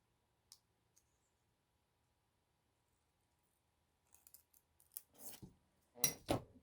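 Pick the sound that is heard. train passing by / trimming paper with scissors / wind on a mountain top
trimming paper with scissors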